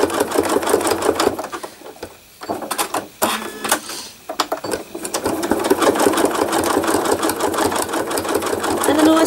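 A sewing machine doing free-motion embroidery for thread art, running in loud close bursts with stop-start pauses and quick restarts.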